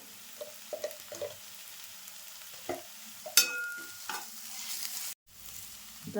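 Onion, tomato and ginger-garlic paste frying in a pan for a Malvani-style seafood dish: sparse sizzle under scattered spoon clinks and stirring scrapes, close and fairly quiet, broken by a brief dropout near the end.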